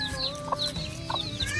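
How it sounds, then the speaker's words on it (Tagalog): Chickens cluck near the mic in a rural Filipino yard: a hen with her small chicks, short repeated clucks over a steady bed of high peeping chirps. "ito yung manok ko na dalang may sisiw"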